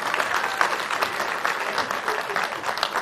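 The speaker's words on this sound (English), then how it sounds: "give yourselves a round of applause." An audience at the Big Local Connects 2021 community event applauds steadily and fairly close, a dense wash of clapping hands that holds at an even level for about three seconds without a voice on top.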